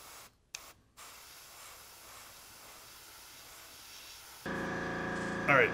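An airbrush sprays paint for markings on a P-40F Warhawk scale model, a soft steady hiss that begins after a quiet stretch and runs louder to the end.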